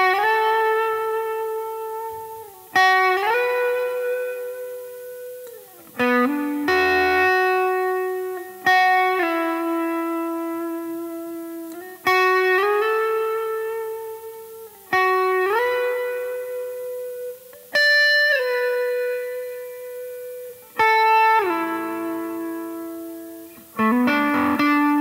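An electric guitar with distortion plays a guitar solo: a slow melodic line of sustained, bent notes, each attack ringing out and fading before the next phrase, with no talking.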